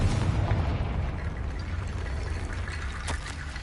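A Confringo blasting spell fires in the Hogwarts Legacy video game, a loud rumbling boom that fades into a low crackling, debris-like trickle, with a sharp snap near the end.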